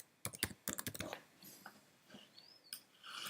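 Quick bursts of close keystrokes on a computer keyboard, a fast run of taps at first, then a few scattered clicks over faint room noise.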